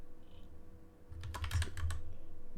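Computer keyboard typing, a quick burst of several keystrokes near the middle of a quiet room, fairly close and clear with no talking.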